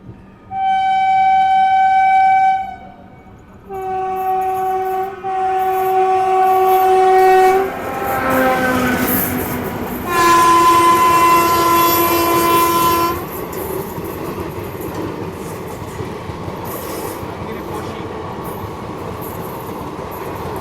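Duronto Express train on the Bangalore–Kolkata run sounding repeated long horn blasts, loud and close, followed by the steady rumble and clatter of the moving coaches.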